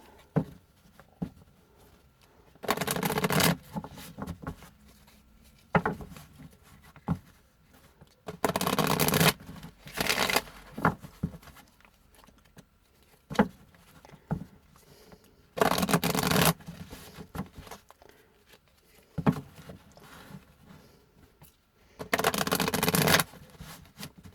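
Repeated bursts of tarot cards being riffle-shuffled, each lasting a second or two, separated by quieter handling and tapping of the deck.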